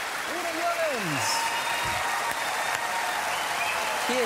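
A live TV audience in Trier applauds Udo Jürgens in a standing ovation, continuous loud clapping from a large crowd with a voice speaking over it.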